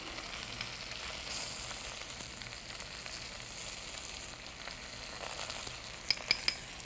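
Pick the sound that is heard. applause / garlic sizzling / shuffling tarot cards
garlic sizzling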